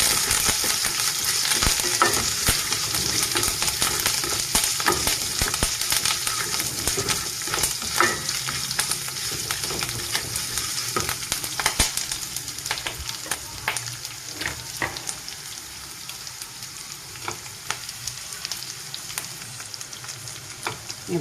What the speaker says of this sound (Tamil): வெங்காயம் கருவேப்பிலை சேர்த்து வச்சுக்கலாம்